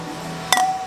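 Beer glasses clink once in a toast at a homebrew shop, a single bright ringing tap that sustains briefly over a quiet room hum.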